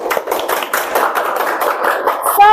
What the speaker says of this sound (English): Give applause for Sukma.